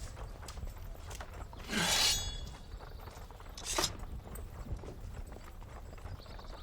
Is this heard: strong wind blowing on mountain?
no